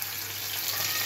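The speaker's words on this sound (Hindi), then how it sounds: "इसमें मैं डालूंगी अदरक लहसुन की पेस्ट।" Ginger garlic paste sizzling in hot ghee for a tadka in a home kitchen, a steady close crackle and hiss with a faint low hum underneath, no voices.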